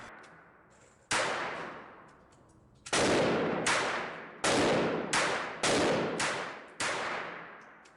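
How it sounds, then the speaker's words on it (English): Shots from a Beretta 418 Panther .25 pocket pistol at an outdoor range, fired at close range: six sharp, loud cracks at irregular intervals, each trailing off in a long echo, with no talk. "Here we are at the range with the Beretta Panther."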